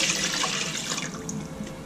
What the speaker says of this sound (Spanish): son dos vasos de agua igual